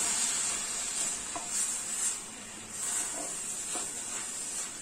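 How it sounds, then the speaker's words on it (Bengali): Shredded green mango stirred in a pan for a sour, spicy and sweet pickle gives a soft, steady sizzle and hiss, with a few faint scraping strokes of the spoon. "দিয়ে এটাকে একটু নাড়াচাড়া করে দেবো"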